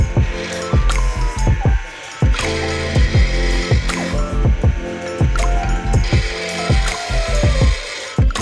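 A hand ratchet clicks in quick repeated bursts while bolts are tightened on S-chassis suspension drift angle mods, with short pauses between runs of sharp, close metallic pawl ticks and no talk.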